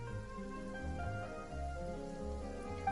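Steady rain falling in the fantasy video game Genshin Impact, a soft even patter of drops on surfaces, quiet and continuous with no voices over it.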